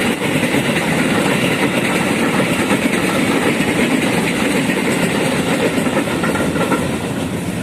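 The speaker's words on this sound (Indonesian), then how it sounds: "seperti yang tadi itu keretanya ke arah Bogor ya" An electric KRL commuter train bound for Bogor rumbles past close by, a loud continuous roar with rhythmic rattling of wheels that eases slightly at the end.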